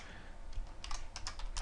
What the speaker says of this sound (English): Well, this seems like a lot of typing, isn't it?